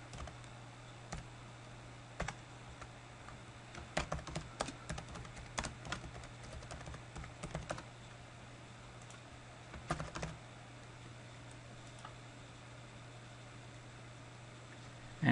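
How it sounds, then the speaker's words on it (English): An email is typed on a computer keyboard in a Thunderbird mail client. Faint keystrokes come in scattered bursts over a quiet background hum. "I'm going to write something to Stephen, both encrypted and supply digital signature."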